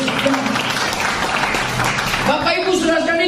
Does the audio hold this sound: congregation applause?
yes